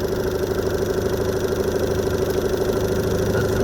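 A 2017 Evinrude E-TEC 15hp H.O. outboard idles in neutral, a steady close, even putter with a regular pulsing beat and no talk.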